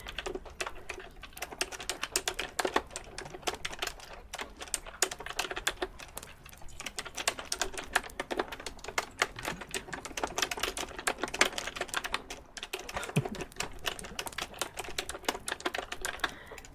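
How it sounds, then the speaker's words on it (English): Rapid, steady typing on a computer keyboard fills the whole stretch, a close, quiet patter of crisp key clicks with brief pauses and no voices. "It's tapping ASMR. I mean, it's typing, not tapping."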